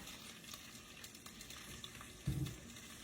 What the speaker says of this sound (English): Just something about a sizzle in a pan.